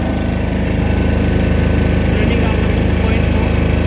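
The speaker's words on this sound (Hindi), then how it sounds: "इन्होंने ये स्टार्ट का बटन दबाया है और इस बटन से जनसेट स्टार्ट हो गया है" A Jaycee portable generator with a Kohler engine runs at a steady, even idle-like drone, close and loud throughout, with a constant low engine throb and no change in pitch.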